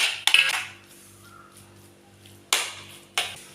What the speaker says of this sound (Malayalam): നമുക്ക് ഫ്രൈ ചെയ്ത് വെച്ച പഴം ഇതിലേക്ക് ഇട്ടിട്ട് നല്ലോണം ഒന്ന് മിക്സ് ചെയ്ത് കൊടുക്കാം.